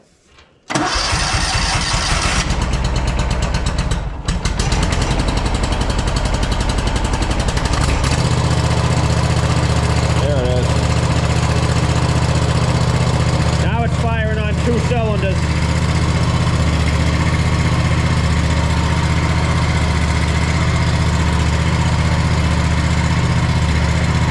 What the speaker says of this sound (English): let the machine warm up a little bit